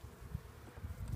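Close, low droning hum of many honey bees buzzing together in a hive, steady and unbroken, with faint shifts in intensity.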